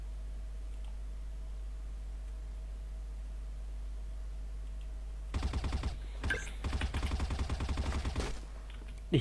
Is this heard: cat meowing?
no